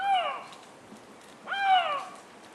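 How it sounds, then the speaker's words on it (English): A Eurasian lynx in heat gives two drawn-out, wavering, cat-like calls, each starting high and sliding down. The calls are clear and fairly close, separated by a short quiet pause. "This tender call belongs, however, to a fierce hunter, the lynx in heat"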